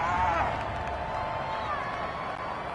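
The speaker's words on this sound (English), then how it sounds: "this crowd does not like that call" Stadium crowd noise from a football video game broadcast on PS4, a dense, steady roar of disapproving fans that holds at high level throughout without clear individual voices.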